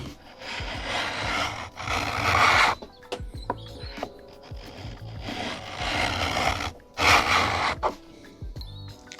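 A hand plane with a reduced blade depth takes long strokes across wood, each pass a rasping shave of about a second or two, repeated several times with brief pauses between.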